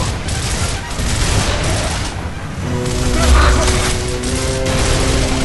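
Shotgun fire in the video game Gears of War, with loud, rapid bursts of gunfire and mechanical clatter under steady game noise, and a voice talking over part of it.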